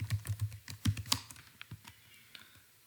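Quick keystrokes on a computer keyboard while writing C++ code, a burst of close, crisp clicks at the start that thins into a few scattered taps.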